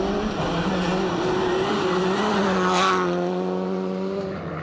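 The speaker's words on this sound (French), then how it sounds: "La Subaru du pilote japonais devance les 2 Skoda officielles" A Subaru rally car races along a Safari Rally stage, its engine note rising and falling as it passes close by, loud and sustained with a brief hiss at the peak.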